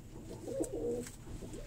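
Male blue-green pigeons coo softly at night in a breeder's loft, a low throaty murmur rising and falling over faint background noise.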